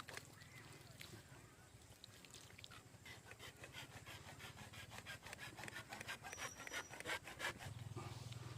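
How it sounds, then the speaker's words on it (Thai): A hand saw rasps back and forth through plastic PE pipe in a steady rhythm, strokes quickening and growing louder toward the end, close up. "เราก็จะเลื่อยหัวเลื่อยท้ายให้ค้นจากจุดที่มันฉีกขาด"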